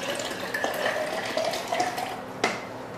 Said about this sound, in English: I'll pour the rest of my bottle of water back in.